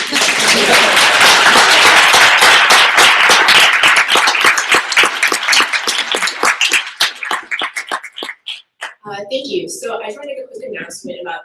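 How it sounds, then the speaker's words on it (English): A crowd at a keynote breaks into loud applause that gradually thins into scattered claps and fades out, followed by a voice starting to speak. "can we get a round of applause?"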